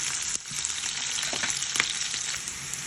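Onions fry in a hot pan for a Jaffna-style spicy liver curry, giving a loud, continuous sizzle and crackle with brief stirring scrapes, heard up close with no talking.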